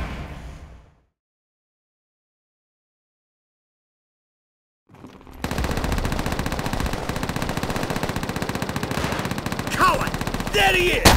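Call of Duty: World at War combat opens with a brief burst, falls silent for several seconds, then erupts into loud, sustained rapid machine-gun fire with dense gunshots continuing to the end.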